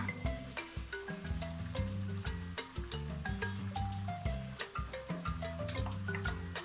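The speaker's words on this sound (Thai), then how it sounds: "ใส่หัวกะทิลงไปผัดเลยนะคะ ให้แตกมันนะคะ" Coconut cream stir-fried with panang curry paste in a pan over low heat, a steady soft sizzle broken by repeated light scraping strokes of a spatula, close and fairly quiet.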